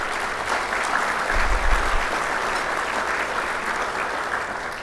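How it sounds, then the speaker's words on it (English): A large audience at a city State of the City luncheon in Chino gives sustained applause, a thick, even roar of clapping that swells slightly midway and holds steady throughout. "let's give one big round of applause for that group"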